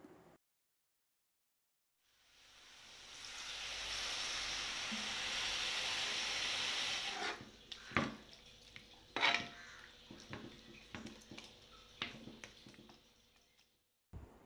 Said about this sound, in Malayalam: കുറച്ച് ഉപ്പും 1 ഗ്ലാസ് വെള്ളവും ഒഴിച്ച് നല്ലതുപോലെ ഇളക്കിയതിന് ശേഷം അടച്ച് വയ്ക്കുക.